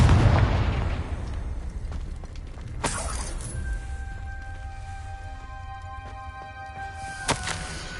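A Confringo blasting spell in Hogwarts Legacy bursts with a loud opening boom. Sharp cracks follow near the three-second mark, then a sustained ringing tone fades out, ending in a final snap.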